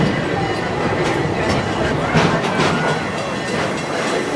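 A Busch Gardens park train rolls along its rails near the Congo station, giving a steady rumble and clatter with faint wheel noise. A voice is heard over the ride.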